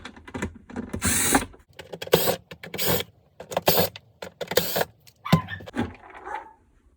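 Screws are backed out of a Thetford Aquamagic Starlite RV toilet with a power driver, short whirring bursts repeating in an uneven rhythm with quiet gaps and small clicks between, close up.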